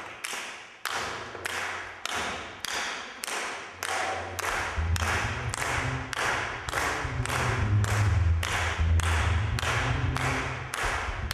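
An audience claps in unison, led by an assistant, in sharp, evenly spaced beats a little under a second apart. A low musical drone rises beneath the claps partway through.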